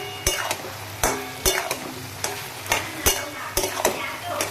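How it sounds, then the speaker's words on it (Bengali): Potatoes with poppy seeds being stir-fried in a pan: a low sizzle under repeated sharp scraping strokes of a spatula at an irregular rhythm, close and fairly loud. "এবার আমি পোস্ত দিয়া এটারে কষাই নিই"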